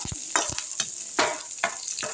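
Curry leaves sizzling and crackling in hot oil, with sharp bursts of spitting and popping over a soft background hiss.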